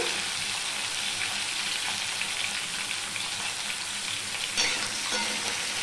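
Potato pieces with a little salt fry in a pan for a Bengali drumstick curry, giving a steady, even sizzle close by with no voices and only slight swells in the crackle.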